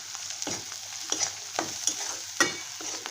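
Coriander and masala fry in hot oil, a soft sizzle with several sharp spoon scrapes and stirs in an irregular rhythm, close but fairly quiet, with no voices.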